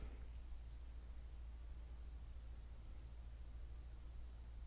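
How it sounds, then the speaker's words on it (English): Crickets chirp in a steady, unbroken high drone, faint and alone, with no voices over it. "Crickets, right?"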